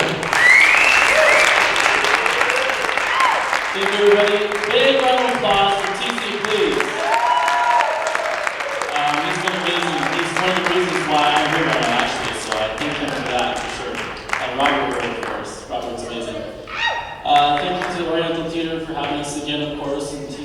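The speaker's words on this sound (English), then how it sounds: "Big round of applause for TC" Audience applause at a Bernie Sanders rally and caucus canvassing training in the Oriental Theater, a long dense burst of clapping and cheering that starts loud and slowly thins, with a person talking over it.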